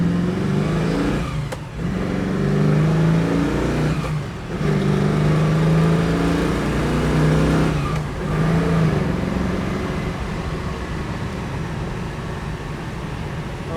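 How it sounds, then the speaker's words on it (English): A 1967 Chevrolet Camaro pulls hard through several gears, its engine note rising steadily and dipping briefly at each of three shifts, loud and continuous from start to finish. "Running through a few gears here."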